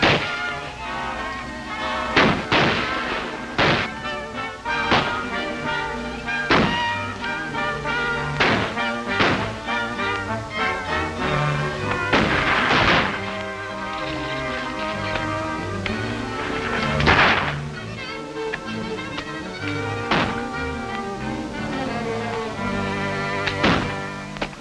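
Gunfire in a western film: sharp, loud gunshots ring out repeatedly at irregular intervals, some in quick pairs, over a busy soundtrack of music and action noise.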